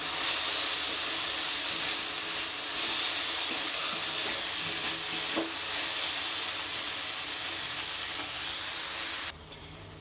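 One spoonful of ginger-garlic paste sizzles in hot oil with tomato, green chilli and salt for chilli chicken, a loud, continuous close hiss with faint stirring scrapes, dropping slightly in the last second.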